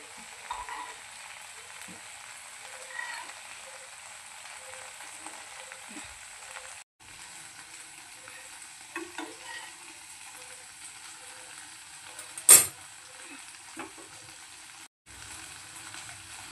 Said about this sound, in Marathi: एकदम छान पद्धतीने अशी फिश फ्राय झालेली आहे आपली